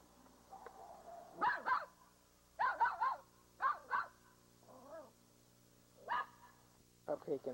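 High-pitched, squeaky barks from a young puppy at other dogs come in short paired bursts with pauses, close by, and a person speaks softly in places.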